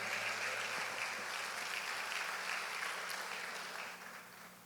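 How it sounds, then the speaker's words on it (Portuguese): Congregation applause fills a church service, a steady broad wash of many hands clapping that carries on throughout and fades slightly toward the end. "Aplauda o Senhor, amém,"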